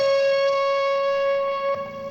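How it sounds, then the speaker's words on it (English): A live distorted electric guitar plays alone, holding one long sustained note that rings steadily before a slight shift near the end, loud and upfront. "So here's like the live guitar by itself."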